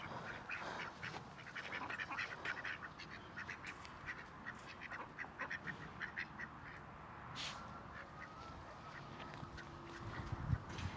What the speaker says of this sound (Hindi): ये है हमारी डक्स।